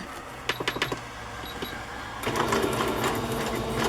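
A sewing machine stitches a zigzag pattern while a boho journal cover is made. A few short clicking bursts come first, then the motor runs loud and continuous, close up and with no talking.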